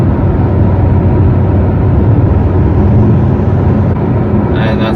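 Audi SQ5 with its exhaust valves closed cruises at 75 and downshifts, a steady loud drone and hum that swells and holds, with a slight change near the end.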